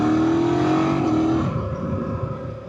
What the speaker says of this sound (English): I hope y'all can hear that exhaust, man. That thing sounds good.